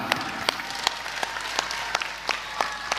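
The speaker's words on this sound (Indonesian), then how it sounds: "tepuk tangan." An audience at an Islamic religious gathering claps steadily, with a dense, continuous layer of many hands and a few sharper, louder claps punctuating it, heard up close without talk.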